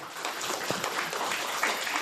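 A small audience at a panel discussion on the founding of Villa del Rosario claps for the two panelists: a brief, fairly quiet and even burst of clapping heard from a distance in the room.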